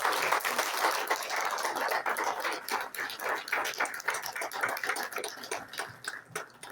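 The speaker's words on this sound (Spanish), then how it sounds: "¿Le pueden dar un aplauso al Señor por sus planes y propósitos?" A church congregation applauds during a Sunday Spanish-language service, a fairly distant, steady patter of many hands clapping that rises and falls for several seconds.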